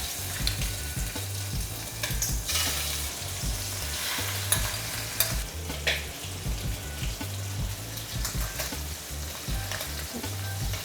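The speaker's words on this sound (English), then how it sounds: "Add the prawns." Prawns fry in oil in a stir-fry pan for a meehoon dish, giving a steady, close sizzle with crackling, spattering bursts throughout and a low rumbling hum underneath.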